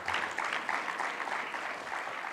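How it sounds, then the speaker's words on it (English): Conference audience at a group violence intervention event gives a round of applause, dense steady clapping from a crowd filling the room at moderate distance for a couple of seconds. "Let's give Dr. V another round of applause."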